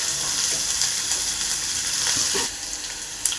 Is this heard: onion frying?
yes